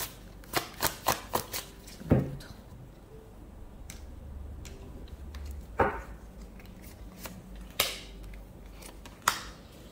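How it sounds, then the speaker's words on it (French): Tarot cards are shuffled and drawn close by: a quiet series of crisp card snaps and flicks, with a few sharper slaps standing out, and no talking. "on va prendre ici 2 cartes"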